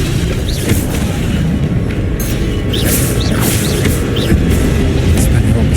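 Expelliarmus spell cast during combat in the video game Hogwarts Legacy, booming magical bursts and swishes over a dense, continuous battle din with some voice present.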